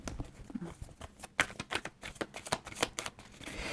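A deck of tarot cards being cut and handled, a quick series of crisp papery slaps and shuffling snaps at close range, no speech.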